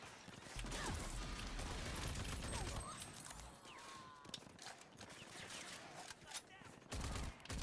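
Rapid gunfire and explosive blasts from the shooter game Rage 2, with grenades and a missile launcher in the fight, loud and dense throughout with heavy low booms near the start and end.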